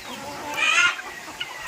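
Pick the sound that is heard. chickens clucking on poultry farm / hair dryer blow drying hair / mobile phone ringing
chickens clucking on poultry farm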